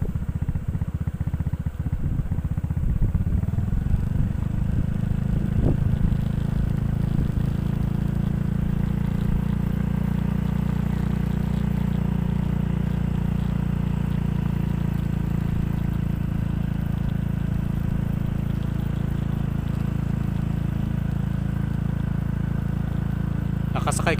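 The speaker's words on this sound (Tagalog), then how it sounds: "Sumakay kasi ako sa motor ngayon kaya medyo mauga-uga." A motorcycle ridden over a bumpy mountain road gives a steady, loud engine drone and rumble, joined by wind noise and occasional jolts for the whole stretch.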